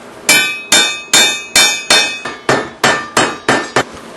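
Loud, ringing metal hammer strikes knock slag off a fresh weld on a steel wheeled cart frame for a fire brick foundry furnace, about ten evenly spaced blows, each with a short clanging decay, no voices.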